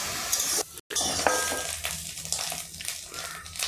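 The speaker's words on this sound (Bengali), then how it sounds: "ছাতু ভাজার সময় এইভাবে জল বেরোবে, যেহেতু লবণ দিয়েছি অতএব এইভাবে জল বেরোবে।" Salted mushroom pieces frying in a pan, releasing their water as they cook, with a steady broad sizzle and occasional utensil clinks and stirring scrapes, close and continuous.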